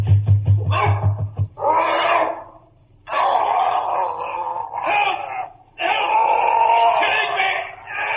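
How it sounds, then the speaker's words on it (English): A large dog is loosed to attack in a 1947 radio drama of the Sherlock Holmes story The Copper Beeches. Loud, close barks come in a rapid burst, then turn to long snarling wails and howls. "Mr. Rucastle has loosed the dog! He'll kill him!"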